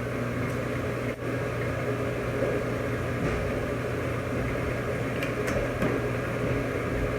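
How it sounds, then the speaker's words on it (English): A microwave oven runs while heating tortillas, giving a steady, even mechanical hum with a faint fan drone that holds without a break, close and alone. "And then I'll put them in the microwave for like 30 seconds."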